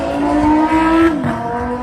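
A Lamborghini exotic car at an outdoor car show, its engine revving loudly up to a held high note before dropping away, close by and with no voices over it.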